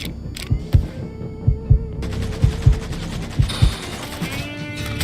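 Gunfire from a shootout in the video game Mafia 3. Heavy, low, booming shots land in uneven pairs and bursts over a constant droning background, fairly loud and close.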